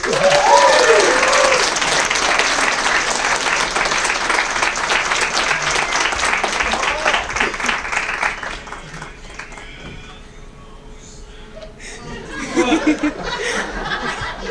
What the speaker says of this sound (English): let's give a nice round of applause for Janelle Bonus